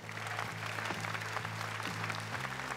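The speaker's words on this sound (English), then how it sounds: "Let's have one more round of applause for our United States Astronaut Hall of Fame astronauts." Audience applause at the 2021 Astronaut Hall of Fame induction ceremony, a sustained even round of clapping from a seated crowd, steady throughout with a faint low tonal hum beneath.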